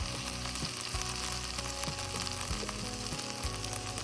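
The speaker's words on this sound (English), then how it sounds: "And hear all that sizzling goodness." Fajita filling sizzles steadily in an air fryer, a dense crackling fry close up with no talk over it.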